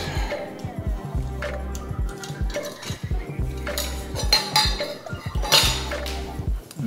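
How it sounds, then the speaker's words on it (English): Metal pin being fitted into the mount nut of a ceiling fan during installation, a series of close, sharp metallic clinks and taps in an irregular rhythm, with handling noise between them. "And then you put this pin in so that way the nut can't back out."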